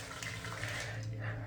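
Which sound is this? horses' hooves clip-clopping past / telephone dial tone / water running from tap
water running from tap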